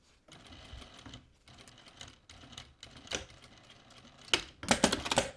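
Short bursts of a sewing machine stitching a sleeve placket on a two-piece sleeve, rapid mechanical whirring in several runs separated by brief pauses, close and fairly quiet, ending in a louder, faster stretch.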